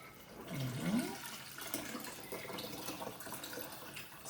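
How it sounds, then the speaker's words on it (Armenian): Cold water poured from a container into a cooking pot, a short splashing gush near the start that settles into a softer trickle, fairly quiet and close. "Ավելացնում ենք ջուրը"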